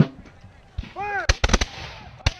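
Black-powder musket volley at a Battle of Monmouth reenactment: several loud, ragged gunshots burst close by in quick succession, with a shouted command just before and another shot a moment later.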